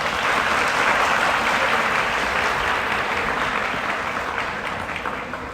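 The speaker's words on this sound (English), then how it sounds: "Let us give them a well-deserved round of applause." Sustained applause from a school audience honoring teachers at a regional science high school moving-up ceremony, a dense steady wash of many hands clapping that eases slightly toward the end.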